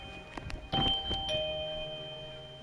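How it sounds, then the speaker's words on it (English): A two-tone ding-dong doorbell rings once, clear and fairly loud indoors, its tones ringing on and fading slowly, with a few faint clicks and light noises before it. "And that is the doorbell."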